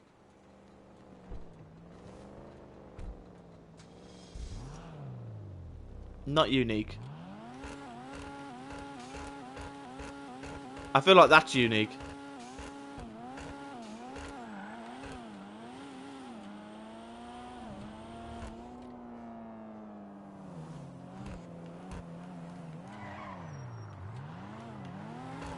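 A car engine in the GTA Online video game revs up and down repeatedly with rising and falling pitch, with two short bursts of louder roaring, while someone talks briefly over it.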